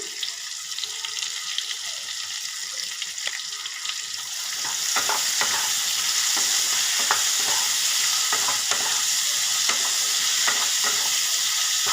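Potatoes frying with turmeric and salt, stirred in the pan: a continuous hiss of sizzling oil that grows louder partway through, broken by scraping and clacking from the stirring.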